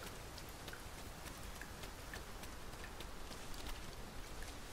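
Soft, continuous rainfall patters in the video game Dragon's Dogma 2, a faint even hiss with scattered droplet ticks and no voices.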